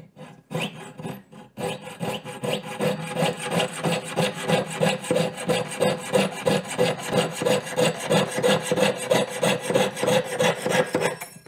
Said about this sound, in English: Or you can use a jeweler saw, which I'm going to use.